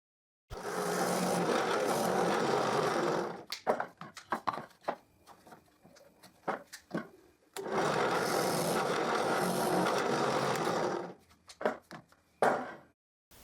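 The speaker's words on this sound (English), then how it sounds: "Now I turn it upside down and I drill another 2 holes." Power drill boring dowel holes into a wooden piece for a pocket tray, two long steady whirring bursts separated by quieter clicks and handling knocks, close and fairly loud.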